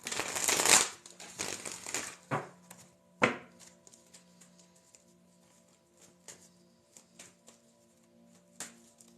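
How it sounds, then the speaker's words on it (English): Cards of a Light Seers tarot deck being shuffled by hand, a dense riffling burst at first, then scattered soft taps and flicks trailing off, close and quiet with no talk. "Shuffle this deck and get to it."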